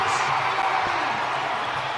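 Stadium crowd at a men's 4x400m relay in the Bahamas, a broad steady roar of cheering and noise filling the whole stretch, loud and continuous with no clear pauses.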